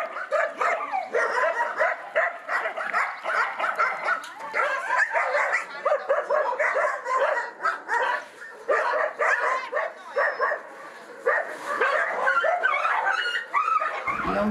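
Dozens of dogs at an animal shelter bark and yip almost continuously, a dense, loud chorus of overlapping barks with a few whimpers, close and sustained throughout.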